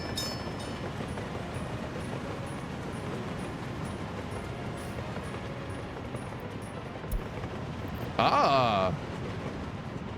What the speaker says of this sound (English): Train simulator.